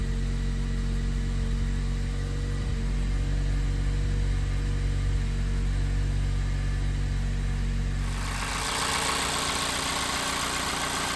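A 2018 third-generation Mazda 6 with a 2.5L Skyactiv-G turbo engine runs at a steady idle after a spark plug change, a close, even hum that drops off abruptly near the end.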